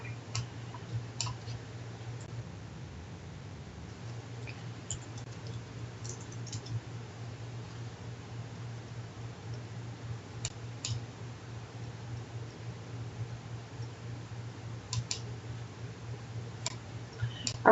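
Faint, irregular clicks of typing on a computer keyboard come in short bursts and isolated taps over a steady low room hum, with quiet pauses between keystrokes.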